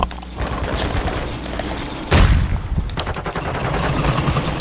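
Call of Duty gunfire in a match: rapid, rattling shots under game noise, with one loud, close blast standing out midway and lighter firing continuing around it.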